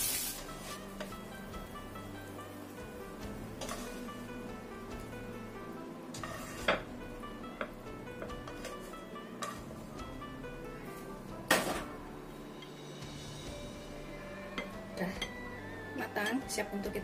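Pans and utensils clink and scrape as a fried eggplant and potato dish is lifted from the stove and plated, with scattered sharp clatters over steady kitchen background noise and no speech.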